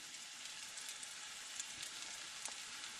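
Liver frying in butter in a pan, with a steady close hiss of sizzling and fine crackle throughout and no talk.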